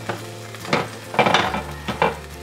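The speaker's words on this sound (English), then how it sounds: "Give it a good mix." Rohu fish curry stirred in a pan, with several distinct scraping bursts of the spoon against the pan over a soft simmer, close and fairly loud.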